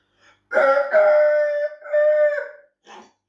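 A chicken gives a drawn-out, close vocal call in a few strained segments, loud and tonal, followed by a brief shorter cluck, with no talking over it.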